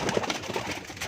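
A young pure-bred pigeon in Rawalpindi coos close by, giving a low, throaty rolling coo that carries through the whole short moment.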